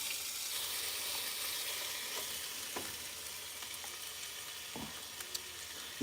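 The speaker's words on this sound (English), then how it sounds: "we're gonna just start dropping our chicken on the grill." Chicken sizzling on a grill gives a steady, fairly quiet broadband hiss with occasional small pops and crackles, heard alone without talk.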